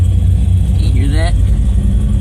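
A car engine fitted with an alcohol injection system runs close by with a heavy, continuous low rumble, and a brief rising whine cuts through partway. A voice is heard over the engine.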